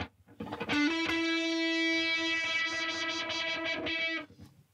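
A distorted, buzzy electric tone from a fuzz pedal swells and holds, its harmonics wobbling and pulsing as the input knob is wiggled and the sound warbles, then fades out; no talking.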